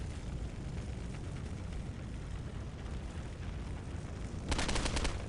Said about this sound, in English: The assault rifle is low damage, but decently accurate.